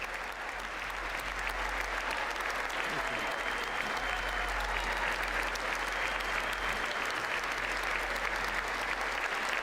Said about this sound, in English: Both Democrats and Republicans, all of them seem to be standing and applauding as they wait for the president to speak